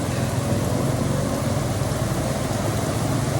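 Heavy rain drums steadily around a vehicle on the road, a dense, unbroken roar over a low engine hum, with no talking.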